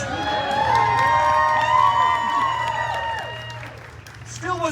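A theater audience cheers and whoops loudly at a stage comedy show, a sustained swell of shouting voices with applause underneath that gradually fades toward the end.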